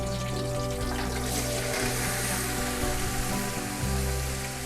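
French beans fry in a spiced masala in a pan, a dense, steady crackling sizzle with a faint underlying hum throughout.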